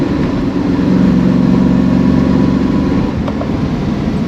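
A V8-swapped Holden HT engine runs loud and close with a rough, chattering rumble and faint irregular ticking under the steady drone.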